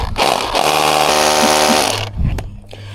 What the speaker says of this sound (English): I'm going to try the hammer drill again